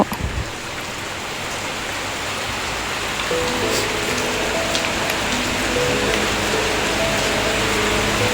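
Heavy rain pours down steadily in a continuous, dense hiss throughout. Faint tonal sounds appear partway through, and there is no speech.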